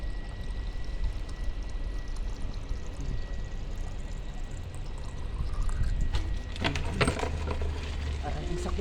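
Water is poured for washing during a household water shortage, a steady splashing stream that grows busier toward the end, while a person talks over it.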